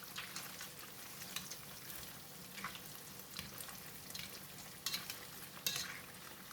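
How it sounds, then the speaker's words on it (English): Tofu fries in oil in a pan, a continuous soft sizzle with occasional louder pops and crackles as pieces shift, no talking. "Flip the tofu to the other side and continue to fry for 2 more minutes."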